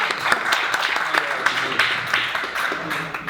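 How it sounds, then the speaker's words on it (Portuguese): Scattered audience clapping at an education panel talk, a modest crowd producing loose, uneven claps that rise and fall over a few seconds, with faint voices underneath. "Aplausos para a tomada."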